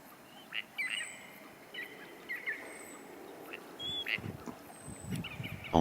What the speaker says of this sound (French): Les plus représentés sont sans nul doute les canards de diverses espèces